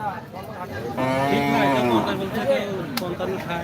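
Cattle low loudly close by amid a busy crowd at a cattle market in Natore, Bangladesh, with people chattering in the background.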